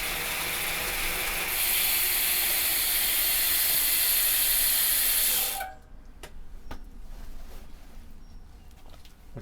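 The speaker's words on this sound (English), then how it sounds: "get this drivetrain, spin it up, and try and get as much of the moisture off of it as possible" A bicycle drivetrain is spun up to fling off moisture after washing a winter bike, giving a loud steady whirring hiss. It stops abruptly, and then the freewheel ratchet ticks in a loose run of sharp clicks as it slows down.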